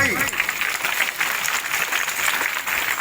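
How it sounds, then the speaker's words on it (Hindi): An audience at a school's annual function applauds in a dense, continuous wash of clapping, loud and unbroken throughout. "ये सर के लिए तालियां हैं"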